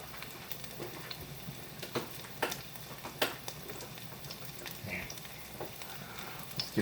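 Garlic fries in oil in a pan with a soft continuous sizzle, broken by scattered pops and the scrape and tap of stirring, fairly quiet and close.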